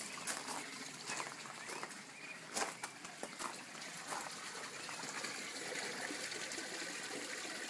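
Water drains and trickles from a gravel grow bed in a backyard aquaponic system with a sump and tilapia, a soft steady gurgle with occasional splashes and faint outdoor ambience.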